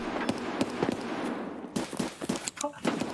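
Grenade blast in an online shooter game, a burst of sharp explosive cracks and thumps amid ongoing gunfire, with people talking over the noise.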